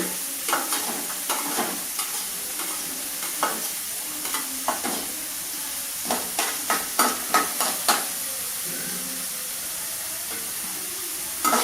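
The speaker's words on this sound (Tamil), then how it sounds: "வெங்காயம் எல்லாம் நல்லா பொன்னிறமாக வறுபடணும்" Garlic and onions frying until golden for manathakkali vathal kuzhambu, a steady sizzle with repeated stirring clicks and scrapes of a spoon against the pan, fairly close, with no voices.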